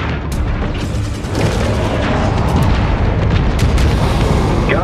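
Spaceship weapon fire and explosions around a Destroyer capital ship in Homeworld 3: dense, continuous rumbling booms with sharp crackling shots layered throughout, loud and close, no talk.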